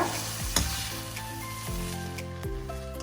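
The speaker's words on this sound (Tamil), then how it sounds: "கிரேவி சேர்த்துட்டு இதையும் நல்லா வந்து மிக்ஸ் பண்ணி விட்டுக்கலாம்." Chicken kothu parotta with gravy being stirred in a hot pan, a steady sizzle broken by repeated scraping strokes of a utensil, close and clear with no talk.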